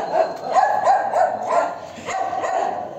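A street dog barks repeatedly at fairly close range, about half a dozen short, loud barks in a quick, uneven rhythm.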